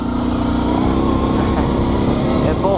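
A Kawasaki Brute Force 650 ATV engine holds a loud, steady full-throttle drone at an off-road park, wheels spinning in place with a constant roar and no break throughout.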